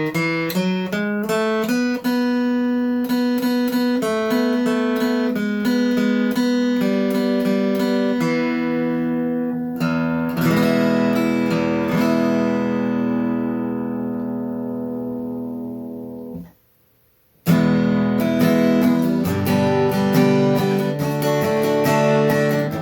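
An Overhead carbon fiber acoustic guitar is strummed and picked with a medium pick. Bright chords and single notes ring out and decay, with a brief silent gap before the playing resumes, close and clear.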